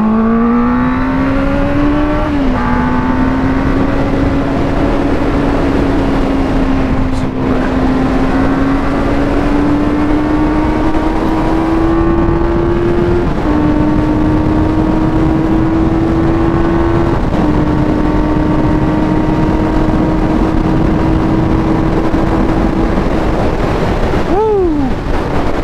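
A Benelli TNT 600 motorcycle cruises at speed on an interstate, its loud, steady engine drone holding a sustained pitch that rises slightly through the gears amid constant heavy wind roar, with brief dips at shifts.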